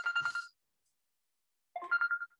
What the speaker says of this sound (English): Oops, forgot to mute my phone.